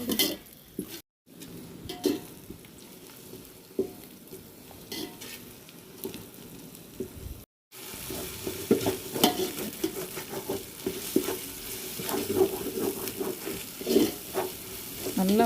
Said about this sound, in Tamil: நல்லா வதக்கும்